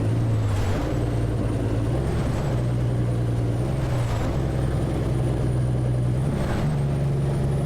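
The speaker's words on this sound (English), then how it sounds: "Grabbing gears here, trying to get going." A heavy truck in American Truck Simulator pulling a log loader up a steep incline toward Redding, California, with a steady low engine drone, periodic air-brake hisses and gear changes through a continuous loud bed of road noise.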